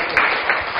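Short round of applause from a group of participants in a classroom presentation session, an even, fairly close clatter of clapping hands lasting under a second.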